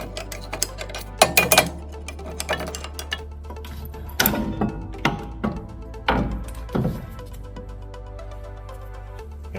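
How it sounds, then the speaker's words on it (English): A long ratchet works at tight wheel bolts on a Fiat 124 Spider, with several sharp clunks and creaks spaced a second or two apart and quieter clicking between them, close by with no talk. "These are usually pretty tight, so I'm using a long ratchet."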